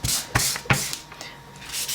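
Cotton pad rubbing coloured pencil pigment into paper in a colouring book, giving soft scuffing strokes close up, a few sharper swipes among quieter brushing, with no talking.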